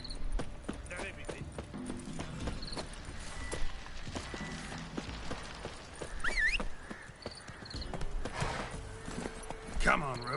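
Galloping hooves from Roach, the horse in Witcher 3: The Wild Hunt, thud along beneath a busy mix of game sounds, music and a talking voice.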